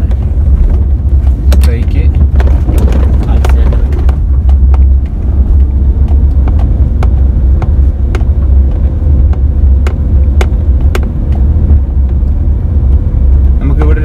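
A car driving, heard from inside as a steady, loud low road and engine rumble that runs unbroken throughout, with faint scattered clicks and ticks over it.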